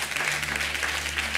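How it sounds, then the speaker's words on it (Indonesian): Applause fills a church worship service, a dense, steady wash of many hands clapping together at fairly loud volume with no break. "Yang mengerti tepuk tangan."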